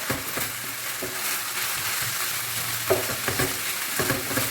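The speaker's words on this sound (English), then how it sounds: "So you keep stirring." Minced meat with spring onion, black and white pepper and salt sizzles in a frying pan while a utensil stirs and scrapes it in repeated strokes, close and moderately loud, with no voices.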